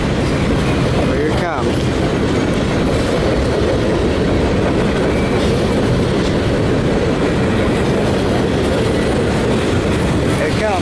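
A CSX freight train rolls past eastbound in Fostoria, Ohio, a loud, steady roar of wheels and rail noise that holds close for the whole stretch, with faint clickety-clack over the rumble.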